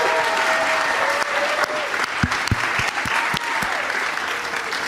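Live podcast audience applauding the guests Dan Schechter, Joe DeRosa and Samm Levine: dense, sustained clapping from a crowd that holds steady throughout, with a few louder individual claps standing out near the front.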